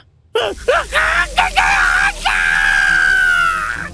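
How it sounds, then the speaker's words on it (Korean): A person screams under torture in a basement, with long piercing cries that rise and break, then settle into one sustained wail, loud and close, with no speech. "지하실 전체 비명이 쩌렁쩌렁하게 울렸다."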